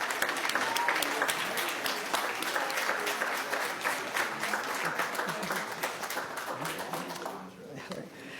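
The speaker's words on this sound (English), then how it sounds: "Let's give her a big round of applause." An audience at a school district board meeting breaks into sustained applause, with many hands clapping steadily throughout and then fading out near the end.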